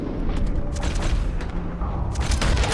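Gunfire in Red Dead Redemption 2, a run of booming shots with sharp onsets and reverberant tails fired in quick, irregular succession, loud and close with no talking over it.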